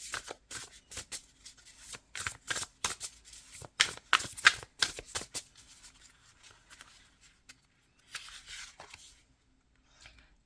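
Tarot cards are shuffled and laid out by hand in a quick series of papery riffles and soft slaps, with quieter card handling and placement toward the end.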